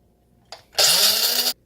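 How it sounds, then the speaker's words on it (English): An electric burr grinder whirs through beans, grinding them into a fine powder: a short loud, close burst that starts with a brief blip, then runs steadily for under a second before cutting off. "Throw them in our bean grinder here."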